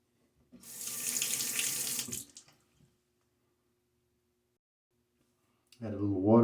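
Water runs steadily from a bathroom sink tap for about two seconds during a shave with a Gillette Nacet blade, then stops, followed by a brief louder splash or rush at the end.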